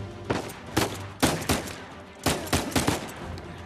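Gunfire in Uncharted 4: A Thief's End on PS4, sharp bursts of shots in clusters of two and three with short gaps between them, fairly loud and with no talk over them.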